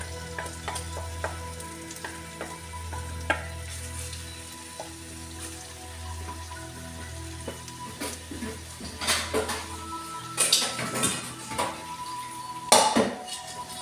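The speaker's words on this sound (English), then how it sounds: "So I'm going to pop my meat in now with all the yogurt." Lamb meat and yogurt going into a hot pot for a curry, with a steady low sizzle, scattered clinks of a utensil against the pot, and louder clattering bursts toward the end.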